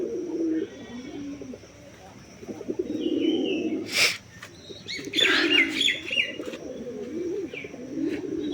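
Desi raj golla pigeons coo softly while eating their feed indoors, with low repeated coos, a burst of wing flapping and scattered chirps close by.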